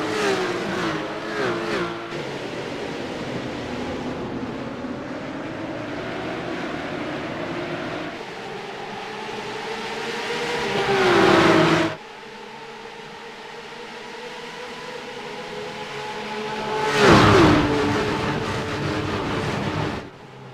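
Race car engines roar in the iRacing sim racing game during a Porsche esports Supercup race at Spa-Francorchamps, heading toward La Source: a loud, continuous drone with shifting pitch, swelling in two sharp surges before cutting off abruptly.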